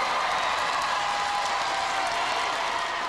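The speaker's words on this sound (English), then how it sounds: "I think you guys deserve a big round of applause from our audience here" Studio audience applauding for the Panzer Mark II robot combat team, a soft, even wash of clapping heard from a distance, steady throughout with no talk over it.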